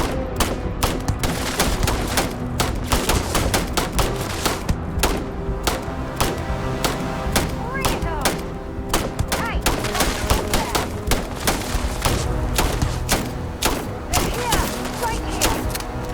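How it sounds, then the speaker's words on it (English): Dense gunfire fills a firefight in the video game Starfield, with rapid overlapping shots and bursts going on without a break at close range. "It's a lot of gunfire."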